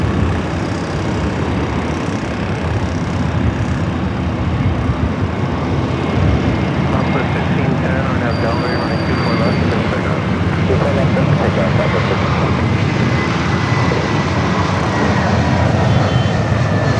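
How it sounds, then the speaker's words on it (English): A Boeing 777-300ER jet taking off from Los Angeles airport, a loud, steady roar of heavy engines filling the whole stretch without letup, heard from nearby. "The 777-300ER heading back to Shanghai."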